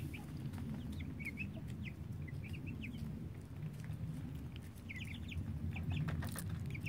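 Five-week-old chickens cluck and chatter softly in scattered bursts over a steady low hum, with no voices.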